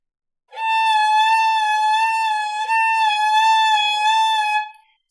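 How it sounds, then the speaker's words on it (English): A single sustained violin note played with a slow, steady vibrato on the third finger, rich in harmonics, holding for about four seconds alone before fading out. "how about I'll just demonstrate with my third finger now"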